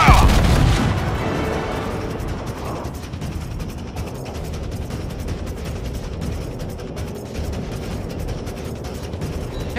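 A ship's cannon broadside firing in a naval warship video game, opening with a heavy booming blast that decays into a long rumbling tail of mechanical rattling and distant thuds.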